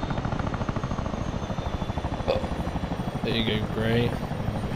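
A Chinook twin-rotor helicopter in a military video game thumps with a steady, rapid rotor chop and engine whine, while someone speaks briefly over it and a couple of short radio-like tones cut in.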